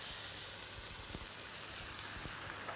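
Mince meat fries in a pan while canned chopped tomatoes go in, giving a steady, even sizzle with faint crackles and pops throughout, no voices.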